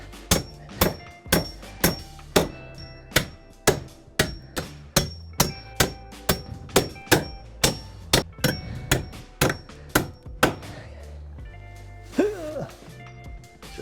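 Hammer nailing joist hangers while framing an attic ladder opening: a steady run of sharp, loud hammer blows at a regular pace, about two per second, with a few clanks and some movement near the end.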